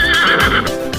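One brief, high whinny from a horse, close and loud, quavering for about a second with no voices.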